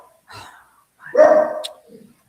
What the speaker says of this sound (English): This darn dog.